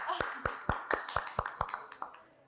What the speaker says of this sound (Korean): 다시 박수 한번 치죠.